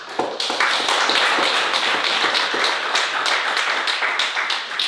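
A church congregation applauds in a sustained, dense patter of many hands for a departing couple, steady and full for about five seconds, with no voices above it.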